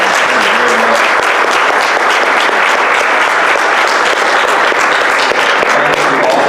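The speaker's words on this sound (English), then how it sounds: "Let's give them a round of applause" Loud, sustained applause from a crowd at a city council runoff forum, continuous dense clapping throughout with a faint voice briefly underneath.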